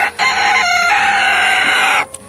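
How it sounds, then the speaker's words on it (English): A painted, bearded silkie rooster crows once, loud and close, in a long sustained call that breaks off abruptly, followed by a brief quiet rustle. "He is a painted, bearded, silky rooster."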